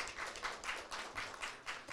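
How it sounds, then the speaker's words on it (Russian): Applause from a debate-event audience rolls on steadily, a fairly faint, even patter of many hands clapping throughout. "Ваши аплодисменты."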